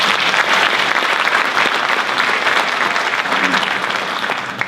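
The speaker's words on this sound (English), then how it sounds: "Let's give them a round of applause." A school auditorium audience at a National Honor Society induction applauds steadily, a dense wash of clapping that holds for several seconds and then begins to fade.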